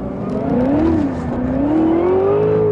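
Supercharged 2016 Cadillac CTS-V with 649 hp accelerating hard, heard from inside as a loud, steady engine drone that climbs in pitch with a whining note, alone and without talk.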